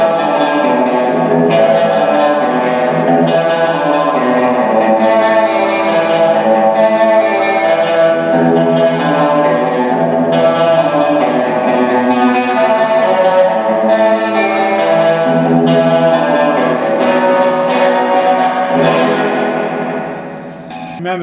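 An organ tone played through a Leslie 910 rotary tremolo reverb speaker set to fast speed, a sustained chord warbling with quick rotary shimmer and reverb, loud and continuous before fading at the end.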